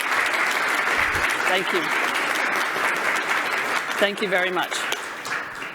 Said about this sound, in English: can I have a round of applause for our sponsors who've made this all possible?